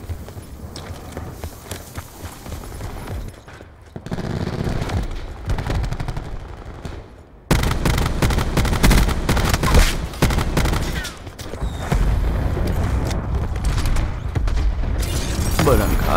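Automatic rifle fire in the video game Black Ops 4 crackles in rapid bursts and sustained streams, mixed with mechanical clatter and footsteps, loud throughout with a player talking over it.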